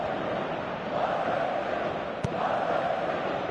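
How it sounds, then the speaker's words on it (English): A stadium crowd in the football video game PES 2017 cheers in a steady, broad roar that swells slightly, with one brief sharp knock partway through. "Crowd appreciates good football all round there."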